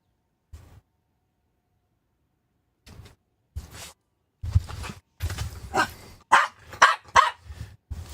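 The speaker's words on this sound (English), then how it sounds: "He would start barking." A dog barks indoors during an evening at home, a few isolated woofs at first, then a string of loud, close, rapid barks and growly yaps.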